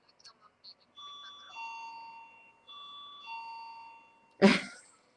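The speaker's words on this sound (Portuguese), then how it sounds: "estão a tocar a campainha" A doorbell in a home chimes with two clear ding-dong tone pairs, steady and close, followed by a short loud burst of noise at the end.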